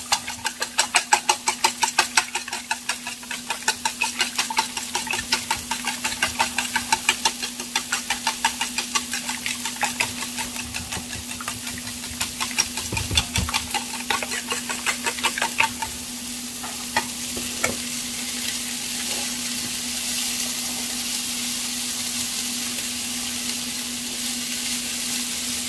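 Egg sandwich ingredients, including egg, sausage and cheese, are stirred and scraped together in a hot pan, making a continuous run of rhythmic scraping clicks over a soft sizzle, with a low steady hum throughout.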